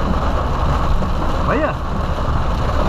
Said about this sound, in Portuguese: Mas a chuva tá forte, hein, rapaziada.